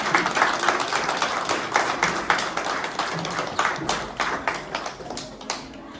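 Church congregation at a French baptism celebration clapping together, a dense run of handclaps building into sustained applause for several seconds, close and lively.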